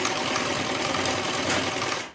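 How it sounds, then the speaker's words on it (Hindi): A sewing machine runs steadily, stitching a gota border onto a saree, its fast even needle rattle close and continuous, then stopping abruptly at the end. "पहले हम यहाँ पर इसके ऊपर एक सिलाई लगा लेंगे, इसके बाद यहाँ पर हम यहाँ पर गोटा अटैच करेंगे।"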